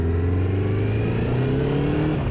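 A motorcycle engine of just under 100 horsepower drones loud and close, holding a steady note that climbs slightly as it revs, with no talking.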